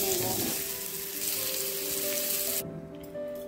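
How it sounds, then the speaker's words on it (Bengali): Potatoes sizzle steadily in a little hot oil in a wok, seasoned with turmeric and salt while they brown for a Bengali-style mutton curry; a close, continuous crackle with no talking. "কড়াইতে অল্প পরিমাণ তেল দিয়ে মটনের আলুগুলোকে ভেজে নেব।"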